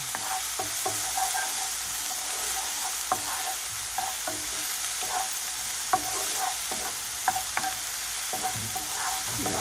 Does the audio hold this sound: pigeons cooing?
no